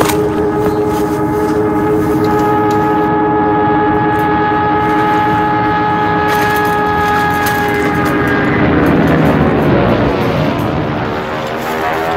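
Airplane passing overhead, a loud sustained engine roar with steady tonal whine that sweeps and shifts as it passes close by, no voices heard.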